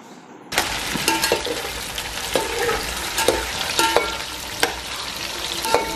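Vegetables fry in hot oil for vegetable pulao, a steady close sizzle with repeated clinks and scrapes of a spoon stirring against the pan.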